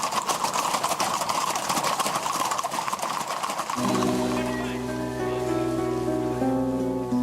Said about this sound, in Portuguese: E foi embaixo de chuva que nossa tropa atravessou a ponte do Rio Canoas